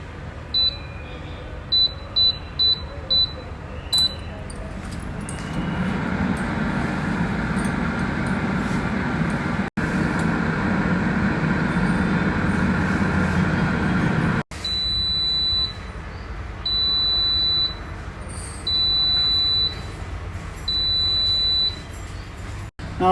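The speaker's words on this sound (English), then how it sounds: "now we are going to air fry them at 180 degrees for about 12 minutes" An air fryer cooking namakpara at 180 degrees gives a steady fan whirr. It is preceded and followed by series of high electronic beeps from its control panel, and the hum drops out briefly in between.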